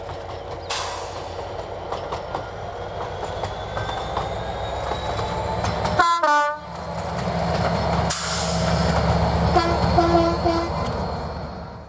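Diesel locomotives 69004 and 73136 roll past Afflington Bridge on a heritage line towards Swanage during a diesel gala, a loud sustained rumble with wheel clatter and a brief horn blast midway, the engine noise swelling as they pass close by.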